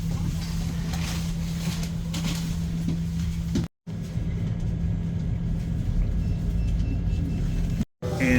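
A city bus in Hanoi rumbles along from inside the cabin, with a steady low engine hum and road noise and two brief dropouts. A voice can be heard faintly under the vehicle noise.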